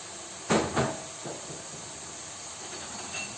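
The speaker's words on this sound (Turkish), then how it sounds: "Şimdi biraz su ilave edeceğim" A glass of lukewarm water poured into a hot pan of cooking meat hisses in two quick, loud bursts, then settles into a fainter steamy hiss with a few softer puffs.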